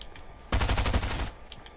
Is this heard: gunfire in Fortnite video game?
yes